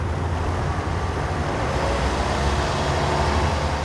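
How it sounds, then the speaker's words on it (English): A video game car engine revs in a steady low rumble throughout, a continuous mechanical hum with no clear breaks, moderately loud and close. "Yeah, I can hear the engine revving."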